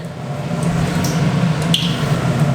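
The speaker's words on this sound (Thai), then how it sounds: "เดี๋ยวจะเปิดที่ดูดควันก่อน" A kitchen range hood extractor fan runs before pork belly is fried, giving off a steady, loud, low mechanical hum with faint brief clicks on top and no talking.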